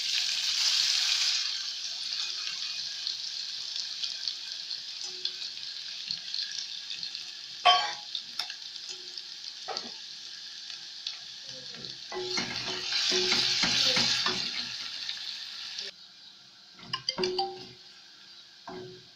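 Grated carrot sizzles in hot oil over low heat, a steady frying hiss that swells and fades, broken by scraping stirs and light utensil clinks in a quiet kitchen.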